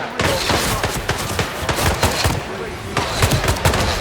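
Rapid bursts of gunfire in the video game Hitman 3, a dense run of overlapping shots that keeps going loud and close for several seconds, with voices mixed in.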